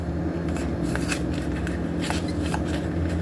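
Oracle cards being shuffled by hand, a run of soft crisp riffling clicks and brushes repeating irregularly over a steady room hum, close and moderately loud, no talking.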